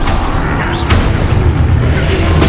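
Confringo fire spell exploding in the Hogwarts Legacy video game, a loud, sustained booming blast with a rumbling, crackling body that fills the whole moment at close range.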